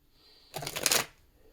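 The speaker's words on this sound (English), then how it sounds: "I'm going to finish this shuffle" A brief, close riffle of playing cards being shuffled, a quick burst of crisp flutter lasting about half a second in an otherwise quiet room.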